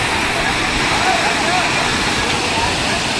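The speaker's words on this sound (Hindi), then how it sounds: "नीचे भी कितना खूबसूरत झरना है यहाँ पर, देखने लायक है" Sundariya waterfall near Mirzapur, carrying a modest flow of water, gives a steady broadband rush that stays loud and even throughout, with faint crowd voices mixed in.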